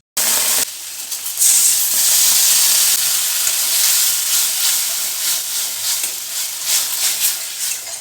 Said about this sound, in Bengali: এবার টমেটো পেস্টটাও দিয়ে দিলাম।